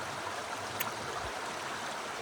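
Stream flowing across a hiking trail water crossing near Big South Fork waterfalls, a steady close rush and hiss of water with one brief tap partway through, no voices.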